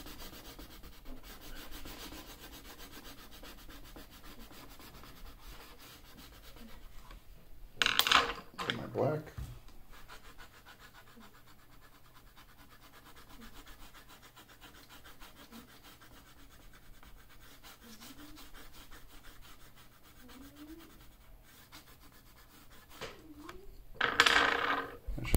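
A brown colored pencil rubs on purple paper, a soft steady scratching that runs quietly throughout, broken twice by louder brief clatters.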